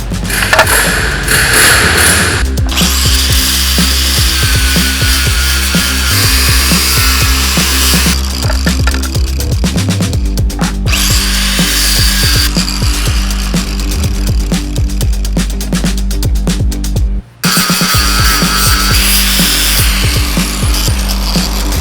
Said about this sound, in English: So that's why I'm grinding these flatter.